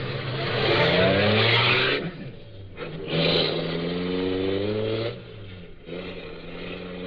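Car engine in an old-time radio drama sound effect, driven back to a garage: a loud, close motor revving and pulling away, rising and falling in pitch across several gear-like surges.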